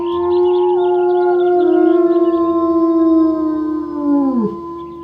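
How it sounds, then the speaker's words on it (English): A wolf howls in WolfQuest, one long, loud, clear tone held for several seconds with a slight waver, then bending downward as it fades, alone without talk. "and I'm gonna howl."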